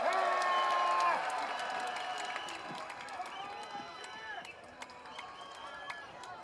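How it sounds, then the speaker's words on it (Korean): A crowd at an outdoor protest rally against Fukushima wastewater release cheers and claps, starting loud and settling into a looser mix of scattered shouts and clapping, with a voice over a loudspeaker. "여러분 다시 한번 뜨거운 함성을 부탁드립니다"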